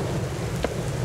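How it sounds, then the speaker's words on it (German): Rain pours steadily outdoors under a dark sky during a tour stop in Nancy, France, a dense uniform wash of noise with one brief sharper patter near the middle. "Ich hoffe, dass heute noch aufhört zu regnen"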